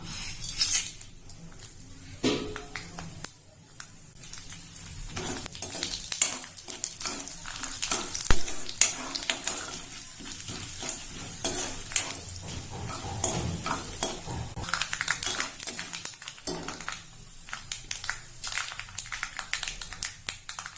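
Mustard seeds, urad dal, chana dal and dried red chillies crackle and pop in hot sesame oil for a long stretch, with occasional scrapes and clinks of a utensil against the pan.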